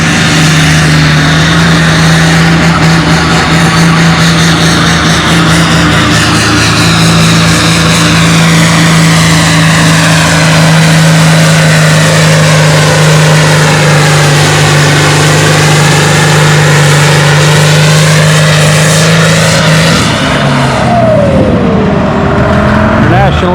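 A pulling tractor called Big White roars at a tractor pull in a 9,000-pound class, its engine droning loud and steady and then rising near the end, with an announcer talking over it.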